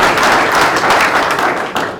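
Audience applause at a Board of Education meeting honoring a student athlete, a steady dense clapping that stays loud and close throughout with a slight dip near the end.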